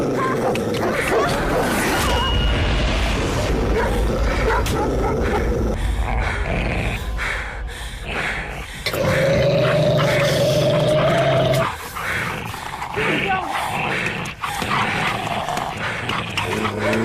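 Several dogs bark and growl indoors in a loud, continuous, chaotic burst, snarls and yips layered over each other with a brief sustained howl-like tone midway.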